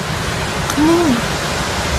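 A waterfall on a river beside a station in Hakone, Japan, gives a steady, even rushing hiss throughout. A brief low tonal call rises partway through.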